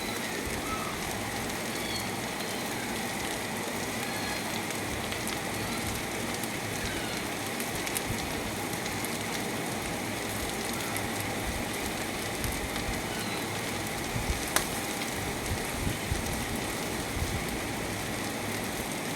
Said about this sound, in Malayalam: നല്ല മഴയും.